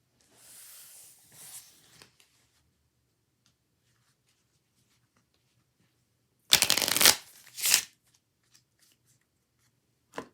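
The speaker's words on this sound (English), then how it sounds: "shuffle the cards" Playing cards being shuffled at close range during a card trick: a soft riffle, a pause, then a louder crisp riffle and a short bridge of flicking cards, with quiet gaps between.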